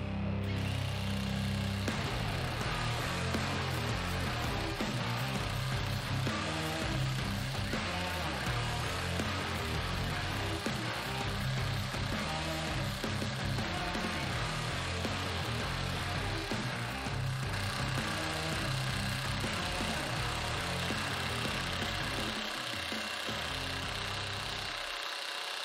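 A cordless high-torque impact wrench works a 7-inch lug bolt loose under continuous, dense, loud hammering and whirring that fills the whole stretch with little letup.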